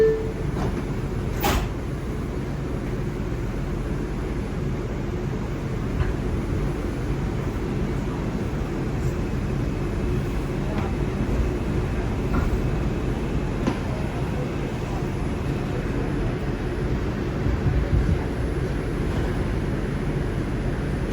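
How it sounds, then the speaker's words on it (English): A Bronx-bound 4 local New York City subway train rides along at night, a continuous low rumble and rattle of the car with occasional squeals and clicks, steady throughout. "This is a Bronx-bound 4 local train"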